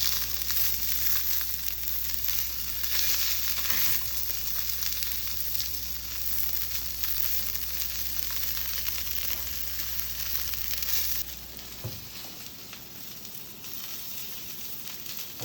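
A fish fillet fries skin-side down in a hot pan, a loud, steady close sizzle that runs unbroken and eases slightly toward the end.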